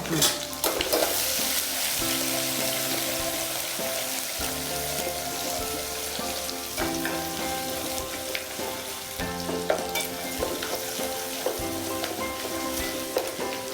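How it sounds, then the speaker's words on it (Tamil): Garlic, ginger and green chilli sautéing in hot oil for chole in a TV kitchen, a loud, close crackling sizzle throughout with clanks of a spoon against the pan and stirring scrapes. "பூண்டு, ஜிஞ்சர், க்ரீன் சில்லி இதை போட்டு நல்லா சாத்தே பண்ணிக்கலாம்"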